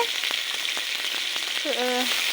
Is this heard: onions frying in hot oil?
yes